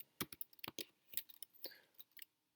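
Someone types on a computer keyboard in a quick, irregular run of about a dozen close, crisp keystrokes, then stops, with no voices.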